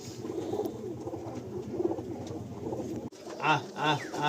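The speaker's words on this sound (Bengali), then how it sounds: "আপনারা জাস্ট আইডিয়া করুন যে কত নাম্বার সব পায়রা এখানে রয়েছে।" Giribaj pigeons coo in a crowded loft in Kolkata, a soft, close murmur of overlapping low coos that continues steadily, then a few louder, clearer calls near the end.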